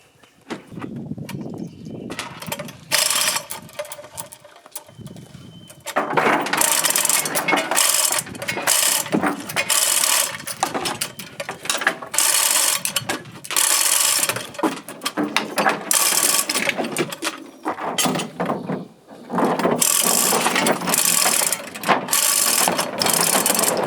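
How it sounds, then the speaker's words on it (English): A hand winch ratchets in quick bursts of clicking while lifting an outboard motor during a Chris Craft Super Sport 17-foot boat rebuild, with short pauses between cranks and a steady background hum. "It's also important to mount the winch low enough so it can pick up the motor"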